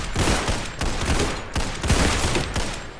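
Rapid FAL rifle shots in Roblox Criminality, a quick string of loud sharp cracks in close succession, each about half a second apart with short decays, firing alone without speech.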